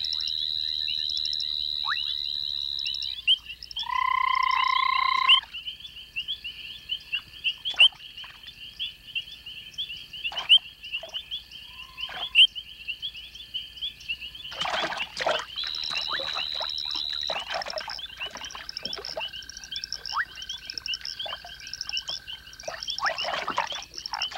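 Frogs call at a pond at night: high, thin tonal chirps and trills, some sustained and some in short bursts, sound alone against quiet with scattered faint clicks and rustles.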